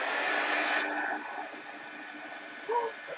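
A hair dryer blows on mixed media paint, a close steady whooshing hiss that drops in strength partway through and keeps running, with a brief voice sound near the end.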